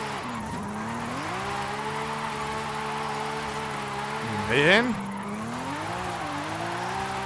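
A car drifts in Forza Horizon 5, its engine droning with rising and falling pitch and a brief sharp tire squeal in the middle; someone speaks briefly over it.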